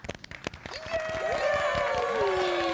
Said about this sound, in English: Can we just give another round of applause for Maddox for being a good sport?